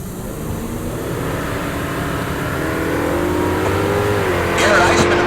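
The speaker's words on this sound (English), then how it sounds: "Jared Aspegren in the left lane. The How Dare You Camaro" A Camaro drag racing at Heartland Park Topeka, its engine droning steadily and rising in pitch as it accelerates down the strip, with an announcer's voice over the engine noise.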